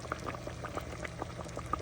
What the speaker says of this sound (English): The fish in the coconut milk are bubbling up now.